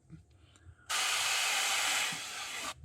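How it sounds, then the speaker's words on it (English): An airbrush spraying paint onto a crankbait lure: a steady, bright spray hiss starts abruptly and holds for nearly two seconds before cutting off, close and loud over quiet background. "We're mainly spraying toward the top of the bait"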